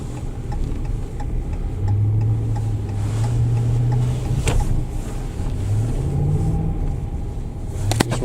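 Cabin of a 2017 Dodge Ram 1500 4x4 pickup with a 5.7 Hemi engine climbing a hill, a low engine hum rising and falling with the throttle, soft ticking and a couple of sharp clicks over it.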